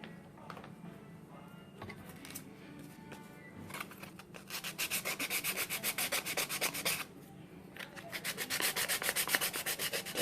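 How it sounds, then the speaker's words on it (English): Sanding wooden shelves for a miniature kitchen cabinet: steady scraping strokes, which turn into fast rhythmic back-and-forth bursts in the second half. Close and moderately loud, with no talk. "when you do your shelves, you want to make sure that you sand it."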